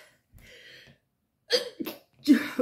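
A person sneezes at close range indoors while working with paper: a soft breath first, then a sharp, forceful sneeze burst followed by a second loud exhalation a moment later.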